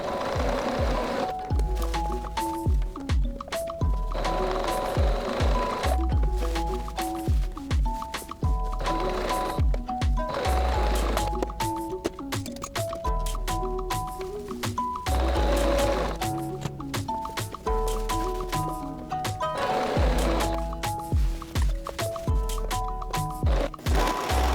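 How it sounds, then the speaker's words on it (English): A sewing machine stitches around the neckline of a tie-sleeve top in repeated bursts of steady mechanical whirring, each run stopping briefly before the next starts, close up and fairly loud. "now I'm going to sew all the way around the neckline."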